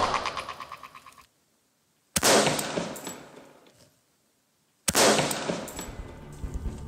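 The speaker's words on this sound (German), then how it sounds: "Das Gewehr kann am Sicherungshebel vom halbautomatischen in den vollautomatischen Betrieb auf Dauerfeuer umgestellt werden." Rifle switched to fully automatic mode firing sustained bursts, loud and close, with a burst cut off abruptly, a pause, then two more long bursts trailing into echo.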